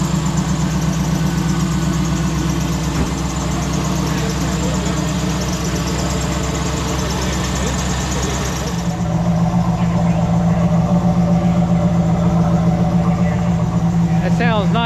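A supercharged 575-horsepower 2000 Pontiac Trans Am engine idles loud and close with a deep, steady rumble that shifts to a slightly different, smoother tone partway through.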